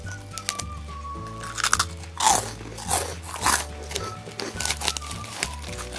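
Close, crisp bites and crunches into a large Japanese rice cracker made from local rice and glazed with honey and soy sauce, several separate crunches over a low background hum.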